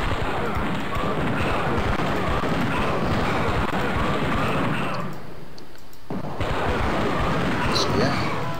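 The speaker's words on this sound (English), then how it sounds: "I guess I'll just start shooting." Gunfire and artillery from the Age of Rifles battle game form a dense, continuous barrage of cracks and booms. It drops briefly near the end and then resumes.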